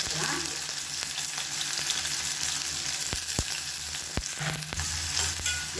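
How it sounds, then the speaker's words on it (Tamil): Long-sliced large onions sizzle in hot oil inside a small pressure cooker, a steady crackling fry broken by several sharp clinks and scrapes of stirring, close and clear with no talking. "வெங்காயம் நல்லா வதங்கணும்."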